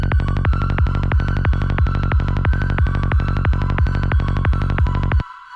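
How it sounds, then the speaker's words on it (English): Dark hi-tech psytrance synth pattern with a pulsing, evenly throbbing rhythm and a high eerie tone on top gives a horror-music feel, loud and steady before cutting off abruptly near the end. "this sounds almost like horror music"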